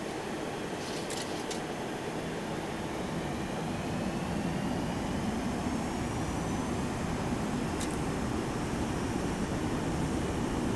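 Jet engines of a FJS 737-200 in a flight simulator hum as the throttle is increased, a steady broadband roar that swells slightly in loudness, with no talk over it.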